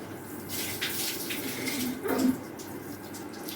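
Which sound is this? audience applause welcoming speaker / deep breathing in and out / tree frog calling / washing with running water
washing with running water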